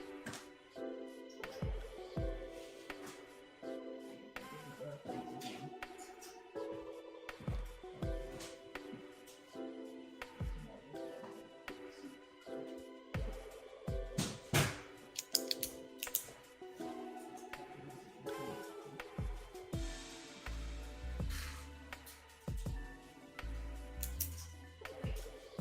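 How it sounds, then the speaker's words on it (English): Tarot cards are shuffled by hand close to the microphone, a long stream of crisp riffling and slapping card sounds in irregular bursts with a low soft rumble near the end. "Sarah, I am shuffling for you right now, okay?"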